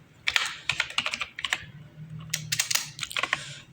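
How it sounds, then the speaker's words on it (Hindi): Keys clack on a computer keyboard with caps lock on as a company name is typed into an Excel sheet, with several quick bursts of close, crisp keystrokes separated by short pauses and no voices. "सबसे पहले हम उस कंपनी का नाम ऊपर लिखेंगे कैप्स लॉक ऑन करके।"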